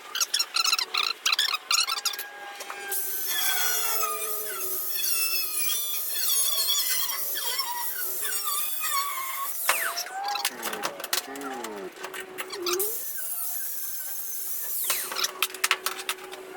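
A power tool, likely a scroll or jig saw, cuts a wooden piece for a prop stand, whining and squealing steadily close by for most of the stretch, with short stops and restarts and no talk over it.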